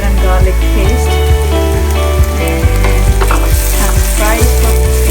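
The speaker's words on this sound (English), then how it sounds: "Fry it for 2-3 minutes quickly until ginger and garlic is" Onions fry in oil with ginger and garlic paste for a spinach and potato dish, a loud, dense, continuous sizzle heard up close, with light stirring and music playing underneath.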